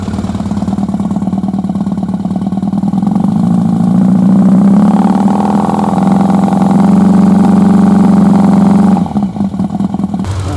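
A cold Honda-style 1100G motorcycle engine idles rough and uneven, a loud continuous chugging that rises slightly midway before dropping off near the end, with no talk.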